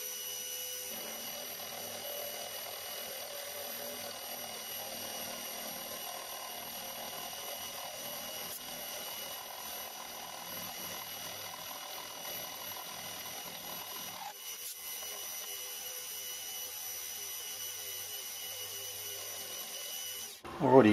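A milling machine top-mills a flame-cut steel plate with a continuous high mechanical whine and hum that shifts partway through, ending in a short louder clunk up close.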